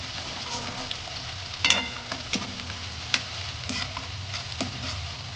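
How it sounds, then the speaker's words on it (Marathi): Onion frying in a pan, a moderate steady sizzle with scattered clicks and taps of a spoon against the metal. "कांदा चांगला भाजून घेऊ आपण."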